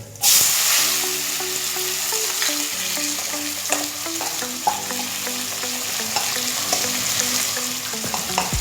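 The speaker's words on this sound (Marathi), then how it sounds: "याच्यानंतर जो आपण बारीक चिरलेला कांदा आहे तो टाकून घ्यायचा." Finely chopped onion frying in a pan, a steady loud sizzle and hiss with occasional stirring clicks and scrapes, running without a break.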